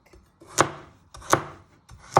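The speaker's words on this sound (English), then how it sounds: "with this one, your small medium piece, you're just going to chop it" A knife chops a carrot into pieces on a board, three distinct sharp cuts at an even pace, each with a short scrape before the thud, close and clear with no talk.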